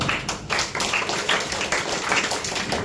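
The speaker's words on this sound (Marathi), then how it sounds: "आता सगळ्यांनी त्यांच्यासाठी टाळ्या वाजवायच्या आहेत" Audience at a school event applauding former students: a steady, moderately loud patter of many hands clapping at close range, continuous with no voices.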